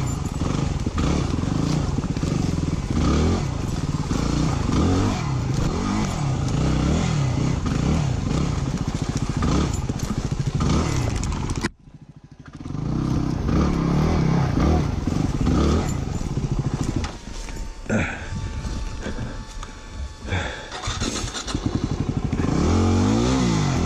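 A Yamaha WR250R dirt bike rides over logs in the woods, its engine loud and close, revving and roaring with clattering knocks, a sudden brief drop near the middle before surging again.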